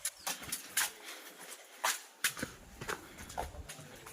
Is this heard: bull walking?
yes